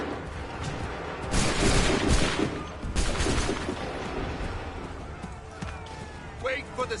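A volley of musket gunfire rings out in Assassin's Creed III Remastered, a dense burst of overlapping shots followed by scattered reports and commotion, with shouting voices over the battle.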